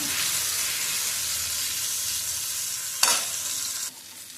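Raw banana slices sizzle and fry steadily on a dosa pan, a continuous close hiss with a brief sharper burst near the end.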